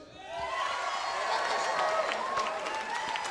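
Crowd at a Cage Rage 13 MMA event responding with a loud, sustained roar of cheering and clapping, close and steady throughout, with voices mixed into the noise.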